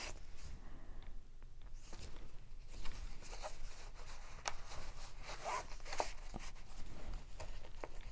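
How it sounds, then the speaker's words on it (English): Fabric zipper pouch in a handmade junk journal being unzipped, with close, quiet rasping zip strokes and small ticks and rustles of handling spread across several seconds, no talking. "This is a zipper pouch, fabric. It zips open"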